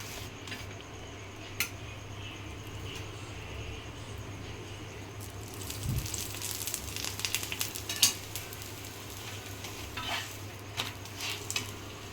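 Soft rolled flatbread dough frying and puffing up in a hot pan, a low steady sizzle with a few light clicks and scrapes of utensils, close and fairly quiet, no voices.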